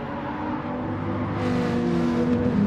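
BMW race cars in a racing video game replay at Suzuka, slipstreaming down the straight, with a steady high engine drone that swells slightly as they run close together, loud and continuous with no talking.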